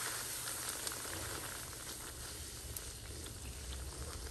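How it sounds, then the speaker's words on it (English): Flour tortillas frying in a pan of oil, a soft continuous sizzle and bubbling heard faintly and alone. "flour tortillas, and just start frying these"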